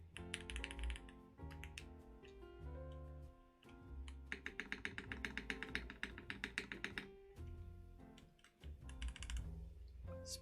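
Typing on a custom Gas67 gasket-mount hotswap mechanical keyboard fitted with Gateron Black linear switches: quiet, close clacks in quick uneven bursts, with a more regular run of keystrokes midway, set against a tonal backdrop.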